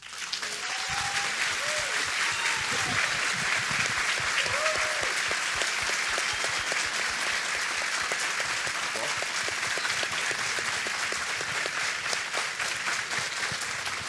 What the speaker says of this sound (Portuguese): pelo volume de palmas